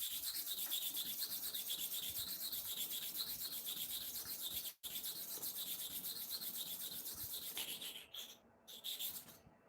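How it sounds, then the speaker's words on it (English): A hair clipper blade is sharpened by hand on a broken stone, making steady, close scraping strokes that repeat in an even rubbing rhythm and briefly pause near the middle. "So I'm sharpening here 30 times in."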